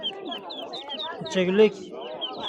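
Ten-day-old ducklings peep in high, repeated chirps at the Pitnak poultry bazaar in Khorezm. Their calls are faint to moderate and sound beneath nearby conversation.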